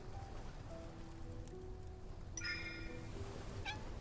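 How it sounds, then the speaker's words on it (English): Within the Love & DeepSpace video game, a kitten lets out a short, bright meow midway through, followed by a fainter second chirp, set over steady rain-like ambience and low game music. "It's the kitten from before."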